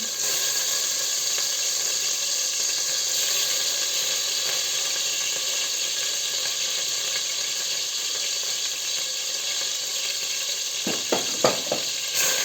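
Steady, dense sizzling and bubbling of melting butter and sugar in a pot, continuous throughout, with a few sharp clinks near the end.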